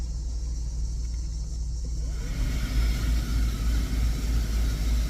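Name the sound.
Jeep blower motor running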